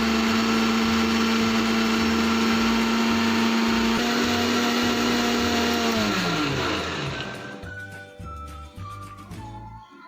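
A kitchen blender whirs loudly and steadily while grinding fresh watermelon pieces into juice, the motor tone dropping and slowing toward the end as it winds down and stops.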